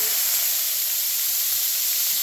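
Onions fry in oil in a pan for an egg capsicum masala, giving a steady, close, bright sizzling hiss without pauses or speech.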